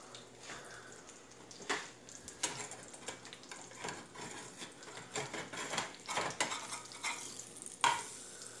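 Bacon frying in a pan during a breakfast cook-up, a steady low crackle and sizzle with repeated scraping and stirring clatters over about nine seconds, no voices.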